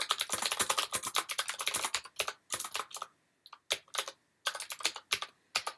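Quick bursts of keystrokes on a computer keyboard, clacking in fast clustered runs with short pauses between groups, close and fairly quiet, with no talking.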